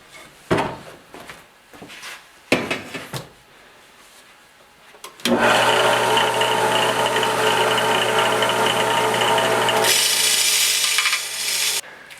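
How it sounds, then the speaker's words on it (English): A few knocks and handling clatter, then an electric power sander starts and runs with a steady loud whine, smoothing a wooden bullnose for a floor installation, close and continuous until it cuts off near the end. "you can just keep on tuning up your bullnose with a grinder, but I prefer to use a sander"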